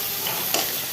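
Spices fry in a pan for a pointed gourd curry, giving a steady soft sizzle with a faint stir or tap midway, close and alone.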